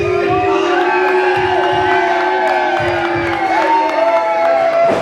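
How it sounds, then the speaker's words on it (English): Fans in the crowd at a Christian wrestling federation show cheer and shout loudly and continuously, a dense roar of whoops and yells with some voices rising above it. "There you hear the fans here."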